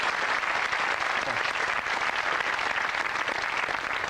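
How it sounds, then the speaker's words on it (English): A studio audience at a 1989 British TV game show applauds steadily, a dense wash of clapping that holds at an even level throughout, loud and close. "Give him a nice round of applause."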